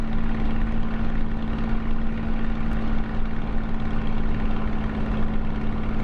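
Engine drone of a Spitfire Mk IXc in Microsoft Flight Simulator, coming in fast toward a runway, a loud, dense, continuous propeller roar with a steady low hum and no voices.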